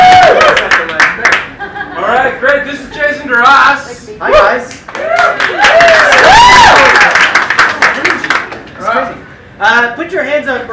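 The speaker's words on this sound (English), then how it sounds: "Give a clap" Audience clapping at a basement improv comedy show, with bursts of applause mixed with whoops, cheering voices and loud chatter, swelling to a peak midway before scattered claps and voices continue.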